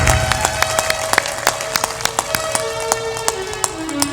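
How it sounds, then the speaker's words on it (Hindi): An audience at a religious satsang gathering in Bihar claps loudly in a steady, rhythmic unison beat, with sharp repeated hand claps continuing over a faint tonal background. "जोर से ताली बजाओ।"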